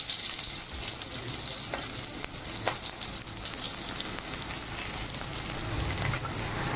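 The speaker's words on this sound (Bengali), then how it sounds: "তেল দিয়ে দিয়েছি, এবার কাঁচা লঙ্কা পেঁয়াজ দিয়ে দেবো।" Green chillies and onion sizzle in hot oil in a kadai, a dense, steady hiss with scattered crackles and pops running throughout, close and even, no one talking.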